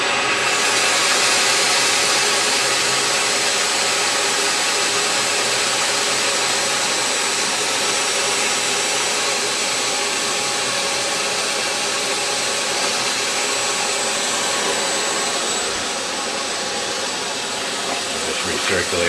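A grain-style elevator carrying and recirculating dusty material gives off a loud, continuous broadband hiss and mechanical roar that holds steady throughout, with no clear breaks.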